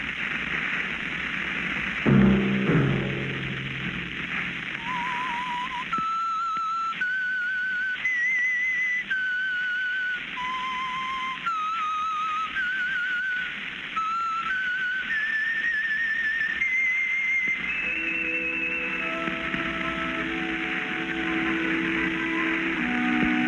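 A clear whistled melody, the theme of the radio program The Whistler, plays in steady, sustained notes over a constant hiss of background noise, bright and tuneful throughout.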